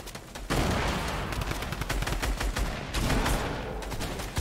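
In the game Warlegends, sustained automatic gunfire rattles loud and near in dense, overlapping bursts across the whole stretch, with no talk over it.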